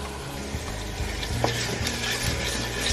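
Onions, ginger and garlic sauté in a pot for a stew, giving a steady soft sizzle with light stirring scrapes and small knocks throughout.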